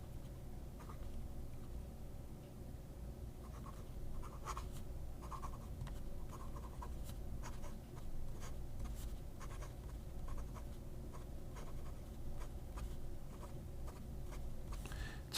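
A Hongdian fountain pen fitted with an architect nib scratching steadily across paper, close and quiet, with intermittent soft strokes and no talking.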